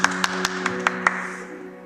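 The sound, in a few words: clapping hands for God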